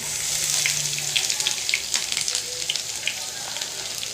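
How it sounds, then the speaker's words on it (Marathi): Garlic sizzling in a hot pan, a steady bright crackle with small pops scattered throughout, close and fairly loud. "गरम झालेलं आहे तर ह्यामध्ये आपण टाकूया लसूण"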